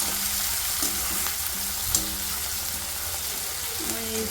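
Tomatoes fry in a pan over low heat, a steady close sizzle with occasional light stirring and scraping throughout; no talking.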